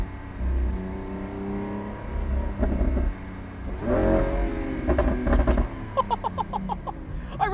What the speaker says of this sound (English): there's nothing that's going to be able to replace these naturally aspirated screaming V12s